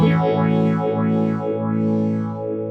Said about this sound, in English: Now that sounds like a phase 90, right?